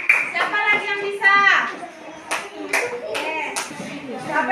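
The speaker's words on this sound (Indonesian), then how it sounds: "tepuk tangan buat Ranu boleh" A classroom of pupils claps for a classmate named Ranu, a short burst of scattered hand claps mixed with a teacher's voice and children's chatter.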